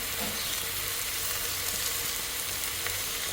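Turmeric, garam masala, chili powder and salt fry with tomato in a pan while being stirred, producing a dense, steady close sizzle with faint scraping throughout.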